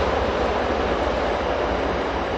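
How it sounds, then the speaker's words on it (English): A train rolls through nearby with a dense, steady roar and rumble that fills the whole stretch evenly, no voices over it. "And we have a train going through, right as I'm recording."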